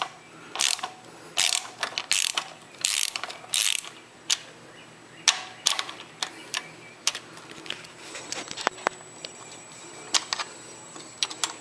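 12 mm socket ratchet loosening a nut on the EGR valve of a V6 Honda Accord, giving bursts of quick clicking pawl ratchet strokes, close and crisp, the bursts growing sparser and shorter toward the end.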